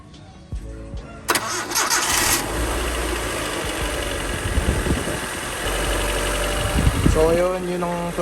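The stock starter motor of a Honda Civic with a B-series engine cranks briefly, then the engine catches and settles into a steady, close, rumbling idle that runs to the end.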